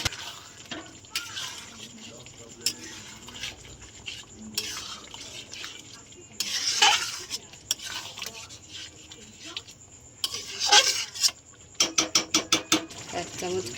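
A spoon stirs egg curry in a pan after water and eggs go in, making scattered scraping clinks and knocks against the metal, with a quick run of rattling taps near the end.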